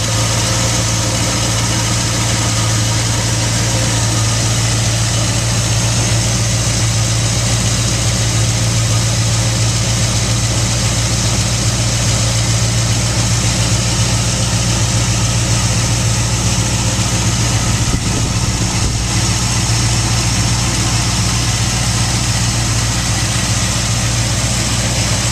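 A 1965 Ford Mustang Fastback with a fully balanced, reassembled engine idles steadily, a close, continuous low rumble with even vibration and no voices throughout.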